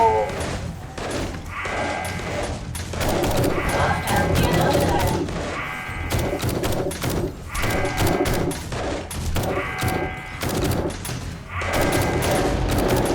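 Rapid bursts of gunfire in the video game 7 Days to Die crackle in long volleys with heavy thuds, pausing briefly between rounds, loud and dense throughout.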